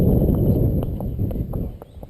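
A horse's hooves clip-clop on pavement in an uneven walking rhythm, sharp knocks ringing over a low rumble of wind or handling noise, fairly near and loud.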